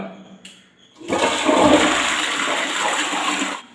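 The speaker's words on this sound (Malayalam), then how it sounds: "ഒന്ന് ഫ്രഷ് ചെയ്ത് കൊടുത്തു കഴിഞ്ഞാൽ ഒന്ന് മഞ്ഞ കറകൾ ഈസി ആയിട്ട് മാറുന്നതാണ്" A toilet flushes after a cleaning mix is poured in: a soft click, then a loud rushing swirl of water for a few seconds before it cuts off abruptly.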